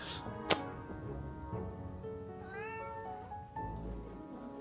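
A cat meows in the horror cooking game Ravenous Devils, a clear rising meow near the middle amid steady game music and ambient tones, with a sharp click just before it.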